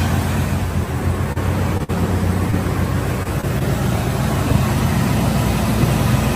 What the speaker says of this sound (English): Headers on a dual exhaust. Like I said, runs like a watch.